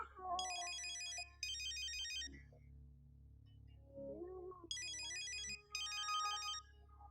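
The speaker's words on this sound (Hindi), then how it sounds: "सुहेल का फोन है।" A mobile phone ringtone for an incoming call plays in two bursts of bright repeating electronic tones, fairly quiet indoors, with soft speech-like voice sounds between them.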